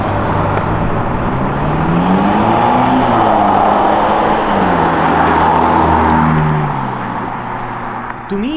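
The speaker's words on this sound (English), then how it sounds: "To me it sounds like the stock twin-turbo V8 engine" A Ferrari Roma prototype with a twin-turbo V8 engine moving nearby, loud engine note rising and falling through gear changes before fading slightly at the end.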